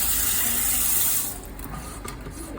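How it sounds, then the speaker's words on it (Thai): Hands are washed under a running tap at a sink after removing dental protective gloves, with a loud steady rush of water for about a second before the flow softens to a quieter splashing trickle. "เราก็จะต้องทำการ ล้างมือให้สะอาดค่ะ"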